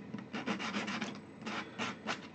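A small model building part is rubbed on a sanding block, producing repeated soft, close scraping strokes in quick bursts, with a brief pause between runs and no voices.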